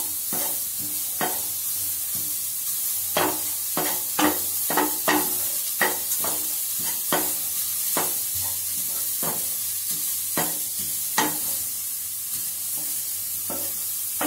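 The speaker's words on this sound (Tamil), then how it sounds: "இப்போ வந்து கேரட்டை போட்டு வதக்கணும்." Carrots being stirred and sautéed in a pan on Healux cookware while making carrot rice, with a steady sizzle under repeated scraping strokes of a spoon, close and alone with no talking.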